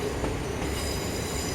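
A third-rail electric train on a coastal line in Train Sim World 2021, with a steady rumbling run of wheels on track and a faint squeal, constant and close throughout.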